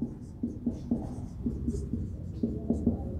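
Chalk or marker writes a physics definition on a board in a lecture, giving a series of short, irregular taps and strokes that sit close and clear over a low room hum, with no talk.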